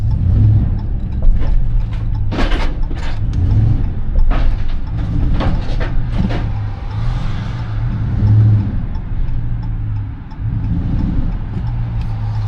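An American V8 engine rumbles steadily at close range, low and throaty, with occasional mechanical clicks and revs rising over the idle.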